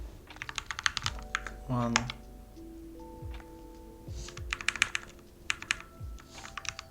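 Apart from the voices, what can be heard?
typing on a computer keyboard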